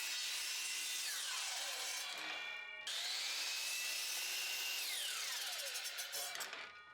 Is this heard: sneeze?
no